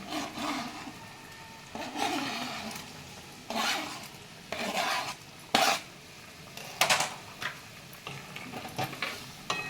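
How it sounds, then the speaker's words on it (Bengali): Homemade, unfried paneer cubes go into a simmering gravy in a pot, heard as a run of close spoon clinks, scrapes and stirring knocks over a low bubbling background, with no talking. "পনিরগুলো দিয়ে দিচ্ছি"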